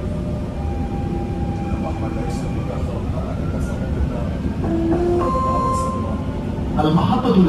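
A Dubai Metro train runs between stations with a steady rumbling ride, faint rail squeals and tones, and a clunk near the end, while an onboard announcement plays over the noise.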